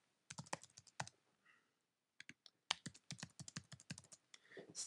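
Close, quiet computer keyboard typing as an email address is entered, with quick bursts of key clicks, a short pause near the middle, then a longer, faster run of keystrokes.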